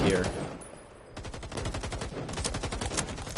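Rapid automatic gunfire rattles in quick repeated bursts in a competitive shooter match, loud and close, with a brief quieter gap before the firing resumes at a steady pace.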